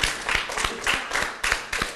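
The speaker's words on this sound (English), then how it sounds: "let's give a round of applause to the girls for losing graciously" An audience at a vacation Bible school closing program applauds the girls, a short burst of clapping with distinct, fairly rhythmic individual claps standing out, close and moderately loud.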